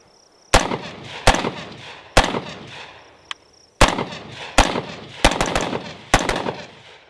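A Black Rain Ordnance New York compliant rifle fires about ten loud, sharp shots close by, spaced irregularly with short pauses between them and a few fired in quick pairs, and no talking.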